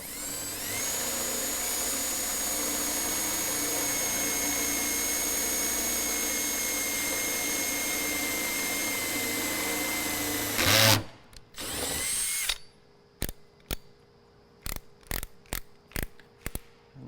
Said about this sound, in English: drill our real size holes